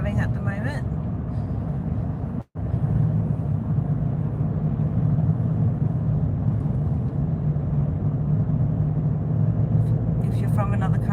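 A car driving along a road in Australia gives a steady low cabin rumble and road drone throughout, broken by one very brief dropout.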